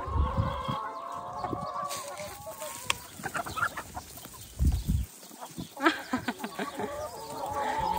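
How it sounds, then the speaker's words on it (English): Many plump chickens cluck and call around a farm chicken house, a busy scattered mix of fowl sounds at mid distance, with people talking at times. "Ang daming manok. Ang tataba ng mga manok nito."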